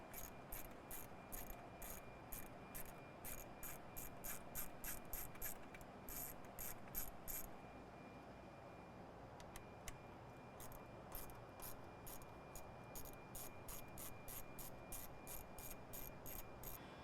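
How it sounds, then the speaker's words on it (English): Ratchet clicking in quick repeated bursts while removing three bolts that hold down the charge pipe on a 2021-2026 Ford Bronco 2.7L, close and fairly quiet, with short pauses between runs and no talk. "now you're going to remove these 3 bolts that are securing down the charge pipe"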